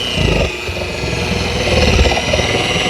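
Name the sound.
sander starting at lowest speed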